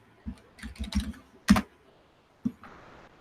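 A handful of sharp keystrokes on a computer keyboard entering a search, scattered close taps with short pauses between them and a final isolated click, no talking.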